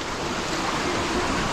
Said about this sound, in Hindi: आबशार के करीब हैं